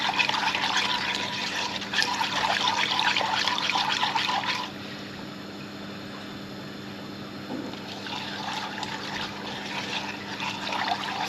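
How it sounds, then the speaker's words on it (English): A whisk works lemon juice, lemon zest and cornflour mixture into boiling water for a lemon meringue pie filling, a steady close sloshing swish that eases off midway before picking up again, with no voices. "we'll give it a whisk until it thickens"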